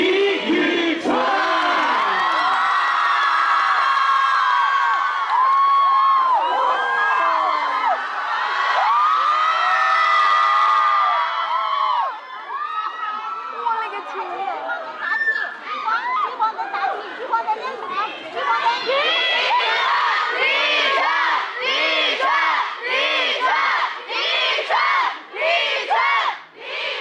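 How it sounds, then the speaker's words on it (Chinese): Studio audience erupting as Li Yuchun walks on stage, a sustained roar of screaming and cheering that later breaks into rhythmic chanting and bursts of clapping, loud and dense throughout. "我们用热烈掌声完全的释放，有请李宇春"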